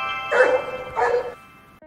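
A brave dog that rescued a small animal from water gives two short barks close by, each followed by a pause, with faint background hum and no talk.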